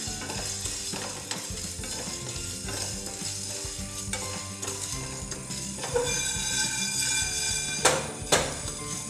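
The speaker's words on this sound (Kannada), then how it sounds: "ಕಾಳು ಮೆಣಸನ್ನು ಫ್ರೈ ಮಾಡ್ತಿದ್ದೀನಿ." Black peppercorns frying in a pan, with a constant sizzle under repeated rattling scrapes as the spoon stirs them, close and fairly loud, a couple of sharper clanks near the end.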